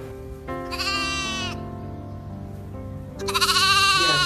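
A lost sheep bleats in two loud, wavering cries separated by a pause, heard over a soft musical backing with no speech.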